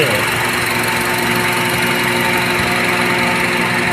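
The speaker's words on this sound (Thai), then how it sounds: "อาจจะไม่ค่อยได้ยินเสียงเครื่องสักเท่าไหร่แล้วว่าเครื่องมันเงียบนะครับ" A steady, low engine rumble from a 2008 Honda CR-V 2.0 4WD automatic running on LPG idles quietly at a constant level, with no other sounds standing out.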